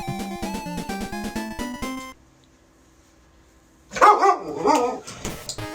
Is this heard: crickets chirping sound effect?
no